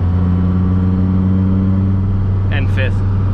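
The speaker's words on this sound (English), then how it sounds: "That is a violent rev limiter" Inside a 1999 Hennessey Viper ACR, the engine holds a loud, steady drone at high revs, close and constant, while a voice briefly cuts in near the end.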